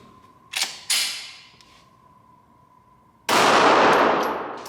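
A Glock 26 Gen 5 9mm compact pistol fires two sharp, close shots about half a second apart, each with a short ringing decay, followed by a louder sustained burst of broadband noise.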